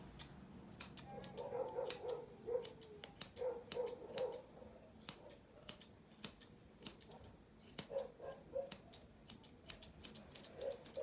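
Seven-inch straight grooming scissors snip repeatedly through a dog's top knot hair, crisp close clicks in quick irregular bursts with brief pauses, and faint low sounds between cuts.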